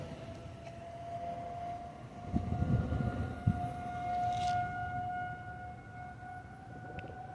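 Tornado warning sirens wail during a monthly outdoor test in Salina, Kansas, a steady distant tone holding level across the whole stretch, with faint outdoor background and brief handling bumps.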